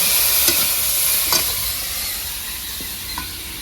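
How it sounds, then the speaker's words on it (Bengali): Broccoli lightly frying in hot oil in a village kitchen, a continuous loud sizzle with occasional soft clinks and scrapes from stirring, no talk. "ব্রকলি আমি হালকা করে ভেজে নিয়েছি"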